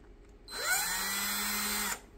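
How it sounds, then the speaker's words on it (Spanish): A power drill fitted with an extractor-tool bit bores a hole into a broken bolt, giving one close, steady whine that starts abruptly, runs for about a second and a half, then stops, with no talk. "primero tengo que agrandar o hacer un hoyo dentro del perno que está roto con una de las puntas de la herramienta"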